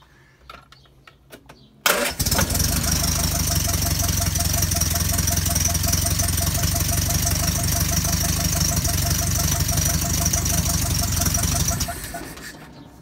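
A 1978 Triumph Spitfire engine, recently cured of vapor lock, catches almost instantly after a brief crank and settles into a loud, steady idle that runs close and unbroken for about ten seconds before dropping off.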